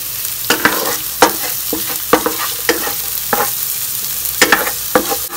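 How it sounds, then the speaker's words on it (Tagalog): Garlic, onion and ginger sauté in a pan with a steady close sizzle, broken by repeated scraping stir strokes at irregular intervals, with no talking. "unahin natin yung garlic guys. Igisahin muna natin. Isunod na natin ang onion. Pati na rin ginger."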